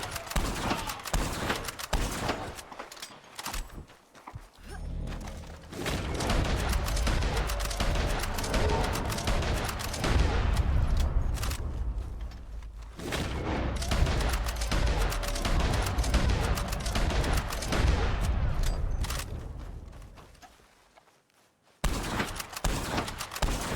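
Rapid, dense gunfire from the Red Dead Online video game, a sustained barrage of shots running almost continuously for about fifteen seconds before dropping briefly and resuming, loud and close.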